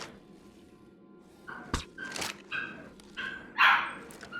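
A puppy barks and yips from another room, a few sharp muffled bursts spread over a few seconds with a louder one near the end, heard at a distance over a quiet background.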